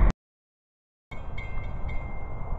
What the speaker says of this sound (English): Alrighty YouTube, it comes another train.